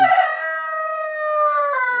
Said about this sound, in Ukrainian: Півник.